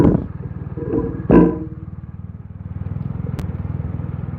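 A BMW motorcycle on freshly fitted tires rides off, its engine giving a steady, close, low rumble with a couple of brief clunks early on.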